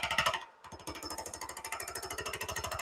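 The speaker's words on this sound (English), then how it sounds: "Bouncing around quite a bit there. It's because I grabbed a small gouge." A small gouge bouncing on off-center wood lathe work makes a rapid, rhythmic chattering knock, fast regular pulses close and steady for nearly three seconds after a brief gap, with no talking.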